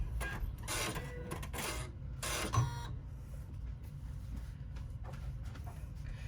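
A cutting machine draws a placement line for a D-ring strap connector on a mini rucksack pattern piece, motor whirs and carriage sweeps coming in short bursts, fairly close and quiet.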